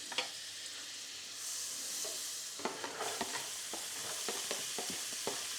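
Onions sizzling in oil and butter in a frying pan, a soft steady hiss broken by sharp scraping and clacking as they are stirred, close and fairly quiet.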